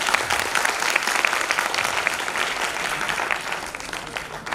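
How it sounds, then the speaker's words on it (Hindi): Dense, steady applause from an audience at a state-level youth Sanskrit song competition in Uttar Pradesh, loud and sustained for several seconds with no pause and no talking over it. "आपकी तालियां कहीं कमजोर रह गई?"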